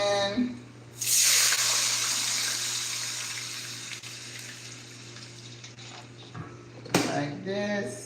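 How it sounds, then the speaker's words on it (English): Water pours into a shrimp and grits pot, a steady gushing rush that starts abruptly, runs several seconds and tapers, with a brief clatter near the end and faint voices around it. "So I'm gonna put some water in."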